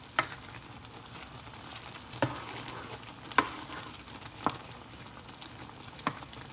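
Apple pie empanada filling sizzling in a pan over high heat, a steady soft frying hiss broken by a few sharp stirring scrapes.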